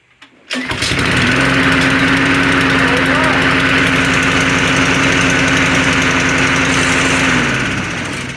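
A cold lawn mower engine with a manual choke starts up inside a garage and keeps running loud and steady, its rough droning roar filling the small enclosed space for several seconds.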